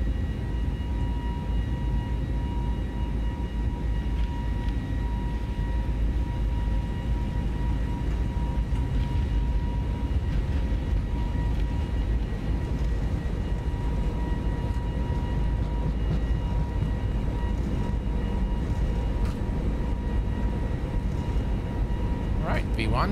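Steady, loud broadband rumble of an airliner's engines during a takeoff roll in the X-Plane flight simulator, with faint tonal hums sustained throughout and no clear change in pitch.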